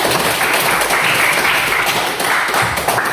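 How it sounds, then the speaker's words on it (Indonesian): Steady, dense applause from students in a classroom, many hands clapping together at a constant level with little talk. "Beri tepuk tangan dulu."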